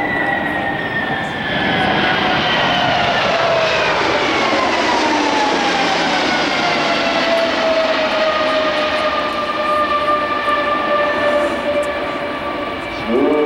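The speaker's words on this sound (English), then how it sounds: "High-speed pass, C-5 Galaxy." A C-5 Galaxy military transport makes a high-speed pass at a 2003 New York airshow, its loud jet roar sweeping past close with a falling whine, while voices are faintly heard beneath.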